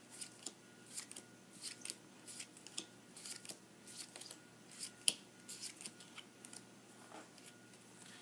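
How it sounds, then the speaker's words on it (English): Playing cards are laid one by one into separate piles during a card trick, making soft, faint flicks and taps in an uneven, steady rhythm with no talking. "now I'm going to just do the cards into separate piles until all of them run out"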